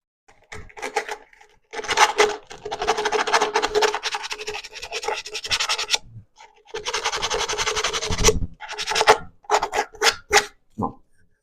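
Cut edge of a PVC pipe being sanded by hand, dry rasping scratches in two long bursts with short strokes between, close and fairly quiet, no talking.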